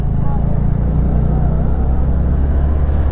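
A Yamaha MT 15 motorcycle rides at night on roads from Tripura toward Arunachal Pradesh, its engine a steady loud drone mixed with heavy wind rush and close under a rider's speech.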